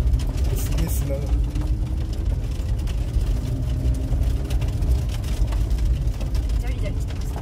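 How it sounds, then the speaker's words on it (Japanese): A Lamborghini engine revved in place, a loud continuous low rumble that swells and holds throughout while people talk over it. "外行ってふかすなって言われたからここでふかした"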